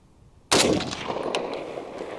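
A single loud, sharp rifle shot from a Springfield Armory M1A Standard with walnut stock, fired close by at a range, followed by a long booming echo that slowly fades.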